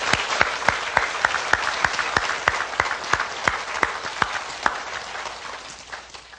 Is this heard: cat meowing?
no